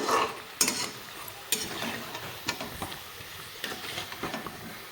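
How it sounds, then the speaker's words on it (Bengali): Lobongo lotika pitha frying in hot oil, a steady sizzle broken by sharp scrapes and clinks of a spatula stirring in the pan, close and alone without speech. "বাকি লবঙ্গগুলো ভাজা হয়ে গেছে দেখো কত সুন্দরভাবে"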